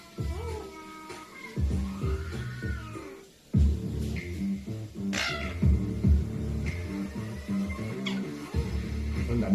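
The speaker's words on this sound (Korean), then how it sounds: "수면을 방해하는 고양이 울음소리나" A cat meows and yowls repeatedly up close, long wavering cries with brief pauses between them, loud and alone.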